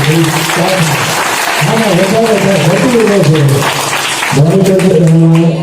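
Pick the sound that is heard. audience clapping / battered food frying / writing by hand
audience clapping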